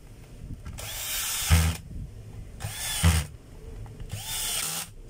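A DeWalt D25032 rotary hammer runs in three short test bursts, each a loud, close whirring buzz lasting about a second, separated by brief pauses.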